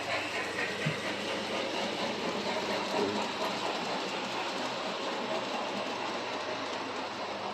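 A model ore train running on a backyard deck gives a continuous close rolling rumble with faint clicking over the rails, steady throughout with no talk.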